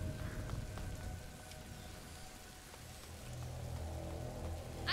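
Heavy rainstorm in A Plague Tale: Innocence, a dense, steady hiss of pouring rain with a faint low rumble beneath, swelling slightly toward the end, no voices.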